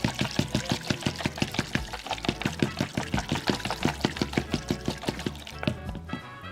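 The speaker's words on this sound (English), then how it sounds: "the best way to do that is obviously to whisk it through very fast." A whisk beats extra virgin olive oil into lemon juice for a salad dressing, making fast, steady, evenly spaced clicks and taps against the bowl, close and continuous throughout.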